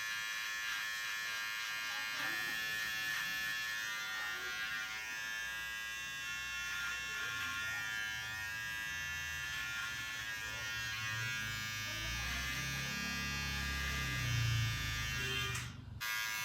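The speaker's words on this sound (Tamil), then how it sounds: "ட்ரிம்மர் யூஸ் பண்ணுறதுக்கு வெயிட்லெஸ்ஸாக இருக்கிறதுனால" A Wahl Mini T-Pro electric hair trimmer runs with a steady, close buzz throughout, its tone shifting slightly as it moves through hair, with a brief louder handling noise near the end.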